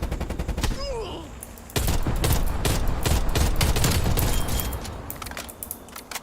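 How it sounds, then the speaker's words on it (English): Rapid video-game gunfire from an enemy sniper crackles in loud bursts of sharp reports, with a heavy continuous volley through the middle and scattered shots at either end. "Enemy sniper shooting."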